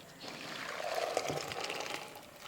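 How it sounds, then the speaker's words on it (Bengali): Boiled peas are poured from a cooking vessel into another pot, giving a short, close wet slosh and trickle of water that rises and fades over a couple of seconds. "এই পাত্রে মটরটা ঢেলে নিই।"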